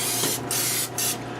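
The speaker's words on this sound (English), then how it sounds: "I'm gonna give these vegetables a little spray." Oil sprayed from a can onto turnips, radishes and onions, three short close hissing bursts with brief gaps between them and no talking.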